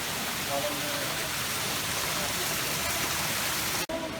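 Steady broadband rush of a waterfall in an aquarium's rainforest exhibit beside a large artificial tree, continuous and moderately loud throughout, with faint voices in the background and a brief dropout near the end.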